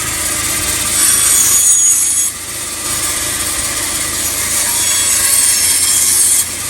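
A wood and cork bluebill duck decoy body has its edge shaped on a bandsaw or similar power tool. The loud, steady grinding rasp continues up close with brief shifts in pressure, and no one speaks over it.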